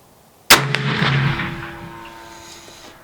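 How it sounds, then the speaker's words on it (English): A single loud Bullard rifle shot cracks sharply and rings out, its report decaying over about two and a half seconds with a lingering reverberant tail. "so here goes shot number one"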